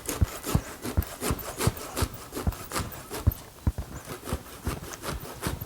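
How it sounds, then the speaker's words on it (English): Rhythmic hand sawing through bonsai tree wood, close and rasping, with quick back-and-forth strokes repeating steadily throughout. "I will continue sawing it and then I'll have to cut the pot"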